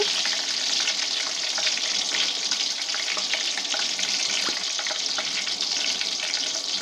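Chopped onion frying in white oil with bay leaves, cardamom and cinnamon for moong dal khichuri, giving a steady, dense sizzle with light stirring scrapes throughout, close and alone with no talking.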